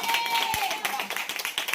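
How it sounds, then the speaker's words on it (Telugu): Hands clapping in a congregation at a church service, a quick run of sharp claps under a voice speaking. "చప్పట్లు కొట్టి దేవుని నామాన్ని కనపరచు"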